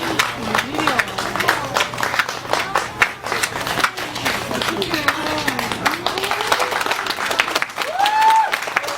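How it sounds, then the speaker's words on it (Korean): Audience at an outdoor candlelight pumba street performance claps in a lively, uneven burst, with voices talking and calling out over the clapping. "박수 한번 주세요."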